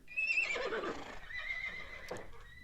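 A horse neighs in a loud, close whinny that rises and trembles, with a few soft hoof clops beneath and no talk.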